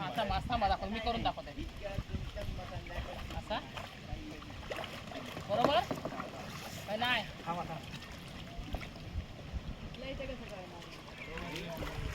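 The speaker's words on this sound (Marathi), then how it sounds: "पहिलं निघालो कायाकिंग करायला" Kayak paddling on open water at Khavane near Vengurla, with paddle strokes and splashes sloshing alongside steady wind noise on the microphone and voices talking over much of it.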